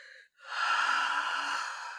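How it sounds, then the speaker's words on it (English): One slow, deep breath is drawn in close to the microphone, a soft, airy rush that swells after a brief silence and holds steady for over a second. "Take a nice slow deep breath."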